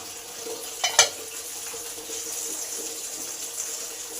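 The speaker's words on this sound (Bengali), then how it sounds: "আলুগুলো দুদিকেই লাল লাল ভাবে ভাজা হয়ে গেছে" Potatoes frying in a covered pan for a Bengali vegetarian eggplant dish, a soft steady sizzle with a brief scrape or clatter near the start, no talking.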